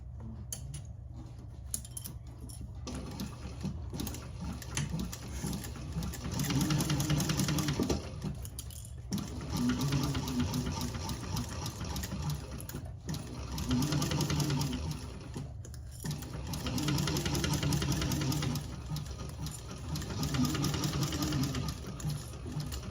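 A sewing machine top-stitching fabric for a candy bag runs in steady mechanical bursts of several seconds each, separated by short pauses, close and fairly quiet, with no talking.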